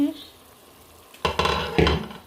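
Spice masala cooks down in oil with red amaranth leaves in a pan, a quiet lull followed by bursts of louder sizzling and stirring scrapes close by.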